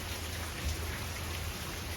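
Steady rain falls through a storm in a rural farm setting, a dense continuous hiss of drops on surfaces with a low rumbling undertone, moderately loud and unbroken, with no voices.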